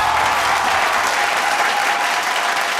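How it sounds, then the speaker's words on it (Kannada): Loud, dense applause from a studio audience at a Kannada comedy show, a steady crackling wall of clapping that holds at full strength for the whole stretch without a break. "ಬನ್ನಿ ಗೊಬ್ಬರ ಒಂದು ಜೋರಾದ ಚಪ್ಪಾಳೆ."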